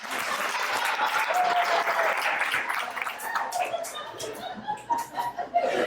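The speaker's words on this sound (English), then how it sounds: "Go ahead and clap like an audience does." A comedy club audience applauds during a stand-up special, clapping loudly at first with some chuckles mixed in, then thinning into a few scattered claps.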